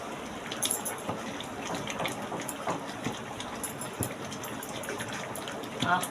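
Tap water runs and splashes steadily while a cashew-wood cooking stick is rinsed during the making of chicken rezala, a continuous near gush with small irregular splashes throughout.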